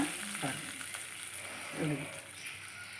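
Hot spice tempering poured into a dried fish curry (pidi karanai karuvadu kuzhambu), giving a steady broadband sizzle with two brief louder bursts as the oil hits the gravy, close by with no talking.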